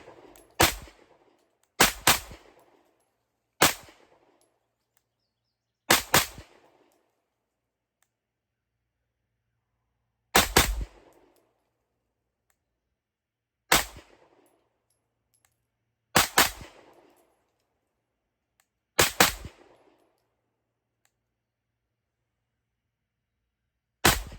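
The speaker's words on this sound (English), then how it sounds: "We're shooting pretty low. Shooting low here." A Canik METE MC9 pistol fires eight sharp gunshots spaced a few seconds apart at an outdoor range. Each crack is loud and close, followed by a short decaying echo, with silence between shots.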